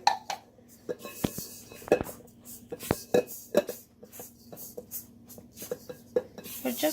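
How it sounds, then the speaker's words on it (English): Dry ingredients for lactation cookies, flour, salt and brown sugar, stirred in a mixing bowl, giving scattered light scrapes and clinks of utensil against the bowl at close range, with no talking. "We're mixing all the dry ingredients first."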